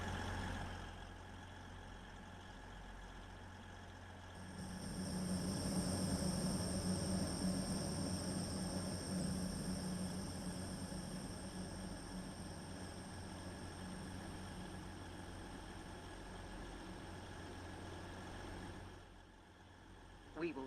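A train runs between stations with a steady low rumble of engine and wheels that swells after a few seconds and holds at an even level, heard from inside the carriage with no talking.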